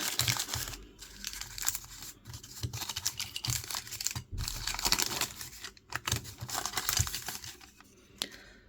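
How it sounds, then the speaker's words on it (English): A small plastic bag is opened close up, giving quiet bursts of crinkling and tearing rustles separated by short pauses, with no talking. "So let's open up this little bag."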